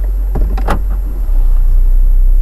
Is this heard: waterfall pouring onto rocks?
no